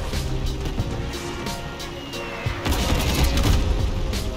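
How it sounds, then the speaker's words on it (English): Dense gunfire and booming weapon blasts from the vehicle combat game Crossout, rapid continuous shots layered over engine rumble, loud and busy throughout. "Oh, I'm shooting his gun."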